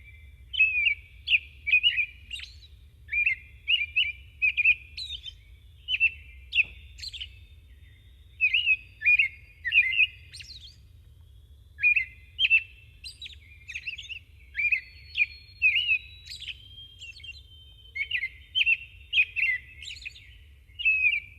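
Bright, chirpy bird song repeats in short bursts with brief pauses, fairly close and clear over a constant low background rumble.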